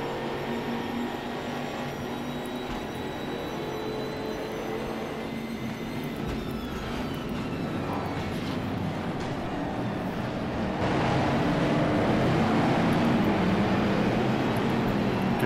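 The din of a pack of racing cars in the RaceRoom racing game at Bathurst: a continuous, loud, dense engine drone with whining tonal layers that swells slightly louder near the end.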